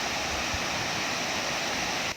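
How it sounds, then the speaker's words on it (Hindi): A mountain waterfall in the Siran Valley roars as a dense, constant wash of rushing water, close and unbroken from start to finish. "एक और पहाड़ों से बहता झरना वादी की खूबसूरती में बेहद इजाफा करता नज़र आया।"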